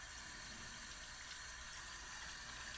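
Hot water runs steadily from a tap over dishes being washed with a sponge and brush, a continuous close hiss and splash at low volume with no talking.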